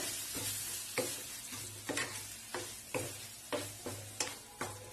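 A spoon scrapes through carrot halwa with ghee and crumbled milk sweet in a pan, about ten rhythmic strokes over a soft sizzle, close and distinct, with no voices.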